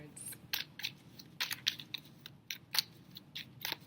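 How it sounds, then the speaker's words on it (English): Crisp, rapid riffling bursts of cards being shuffled, repeated several times in quick flutters with short pauses between, close by. "I love the sound and the feel of shuffling cards"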